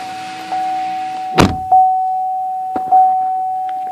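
Power windows on a 2013 Chevrolet Equinox LT run in short motor whirs, punctuated by a sharp thump and a couple of lighter clicks, heard up close with no talking under a steady tone.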